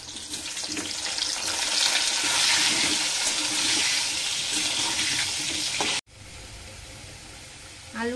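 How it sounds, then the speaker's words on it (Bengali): Potatoes fry in a pan with a dense, steady hiss and sizzle of hot oil, close and fairly loud, cutting off abruptly near the end before a quieter, softer sizzle returns. "আলুটা আমার খানিকটা ভাজা হয়ে গেছে"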